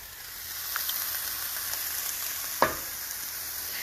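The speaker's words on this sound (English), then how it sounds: "And continue to stir very well." Ground turkey and beef sizzle steadily in a hot pan while being stirred, a continuous bright frying hiss with a few soft scrapes and one sharp clack of the utensil near the end.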